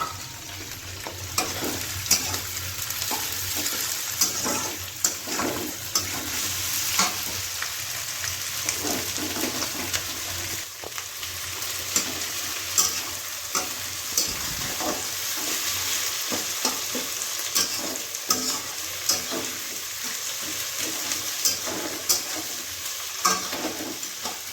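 Green chillies fry in hot oil for chilli chicken, giving a continuous soft sizzle with occasional stirring scrapes, steady and close, with no talk.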